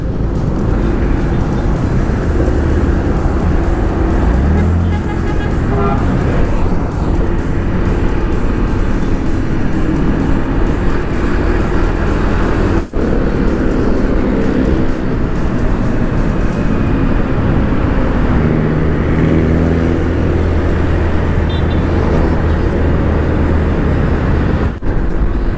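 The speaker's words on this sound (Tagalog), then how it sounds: "Sumulong highway na to." Steady traffic noise on Sumulong Highway in Tanay, Rizal, heard from inside a moving vehicle: a continuous broadband road and engine rumble throughout, with occasional louder passing swells and no talk.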